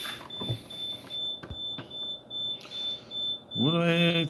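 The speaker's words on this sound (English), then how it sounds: "That's an alarm in the building I'm in, the fire alarm." A building fire alarm emits a thin, high continuous tone that keeps going behind scattered knocks and clicks, ending with a person speaking over it.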